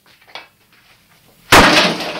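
Quiet creaks and small knocks, then a sudden loud sledgehammer crash into kitchen fittings, followed by a ringing, clattering tail of breaking material.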